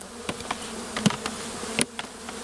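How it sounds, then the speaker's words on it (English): Honeybees from a shaken swarm buzz close by in a steady hum, with individual insects zipping past now and then and short rustles mixed in. "There's a few bees started to fly up because obviously being"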